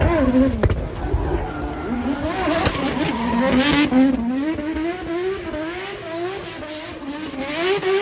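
The Mad Mac, a car with a McLaren P1 body and rotary engine, is heard at a festival of speed with a wavering engine note rising and falling amid crowd noise and other cars.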